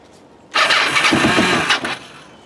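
A Kawasaki Ninja EX500 motorcycle with a leaking carburetor bowl cranks and catches, giving a loud, close burst of engine noise of about a second and a half before it cuts off.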